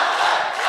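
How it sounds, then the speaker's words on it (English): A packed crowd at a Pakistani HUFC fight night chants loudly for fighter Babar Ali, a dense roaring wall of voices filling a brief moment. "The chants of Babar Ali here are deafening"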